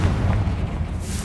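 A Confringo fire spell blasts in the Hogwarts Legacy video game, a loud continuous booming rumble that stays heavy and dense through the whole short moment without letting up.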